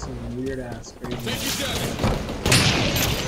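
Grenade blasts in Halo Infinite ranked arena play, a dull boom and rumbling burst of explosions mixed with in-game gunfire, with a player talking over the action throughout.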